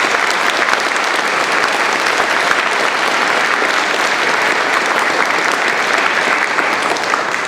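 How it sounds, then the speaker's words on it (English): Loud, sustained applause from a crowd at a science fiction book signing in a bookstore, a dense uninterrupted roar of many hands clapping close by. "So I would like to give them a round of applause."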